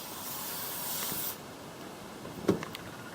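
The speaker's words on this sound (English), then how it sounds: "We'll spray it again" A steady hiss of aerosol spray on a 1964 Impala Powerglide transmission for over a second, then it cuts off, followed by a few faint clicks and a small knock.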